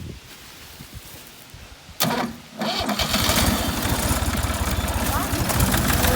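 A truck engine cranks and catches after a brief clunk, then runs loud and steady as it prepares to drive onto a board ramp propped on brick to unload a pumpkin harvest; a voice is faintly heard before the start.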